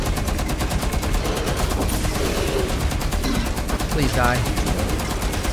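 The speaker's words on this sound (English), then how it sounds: "Someone's shooting at us from somewhere." Rapid automatic gunfire in the game Rainbow Six Extraction, dense continuous bursts throughout, loud and close, with people talking over it.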